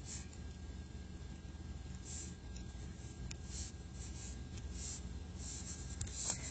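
An eraser rubs out pencil working on paper for a math problem about combining like terms: soft, repeated close scrubbing strokes in a rough rhythm, faint and without speech.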